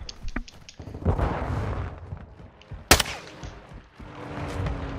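Sharp gunshot bursts crackle in a Call of Duty Modern Warfare 2 match as teammates fire nearby, with a loud crack near the three-second mark amid ongoing rattling shots and game noise.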